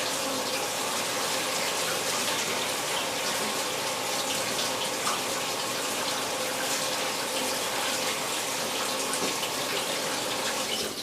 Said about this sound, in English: And then I'm going to rinse it in cold water.